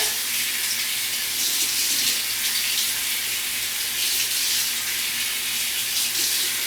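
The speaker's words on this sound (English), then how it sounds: "So now I'm going to go ahead and rinse them with lukewarm water." Steady hiss of lukewarm tap water running continuously, close and even, with the gentle splash of rinsing hair extensions and no voices.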